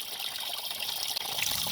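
Coolant drains out of a 2004 Nissan Sentra 1.8 engine during a water pump replacement, a faint, steady trickle of liquid running without a break.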